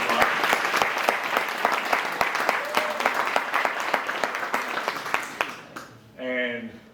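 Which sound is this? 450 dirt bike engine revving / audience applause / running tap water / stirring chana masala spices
audience applause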